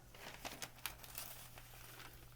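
Soft, close crinkling of thin packing paper, like wrapping paper, being handled, quiet rustles and small crackles coming in irregular bursts.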